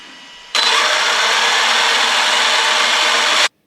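A Traxxas Maxx RC truck's electric motor is held under throttle for about three seconds, a loud, steady high-pitched whine that starts abruptly after a quieter idle and cuts off sharply.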